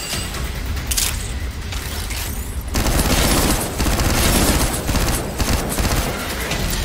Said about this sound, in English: the level 4 SMG is awesome